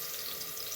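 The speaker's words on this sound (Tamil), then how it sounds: "கொஞ்சம் வெங்காயம் வதங்கட்டும்" Onions sautéing in a pan, a brief, steady, even sizzle with no other sounds.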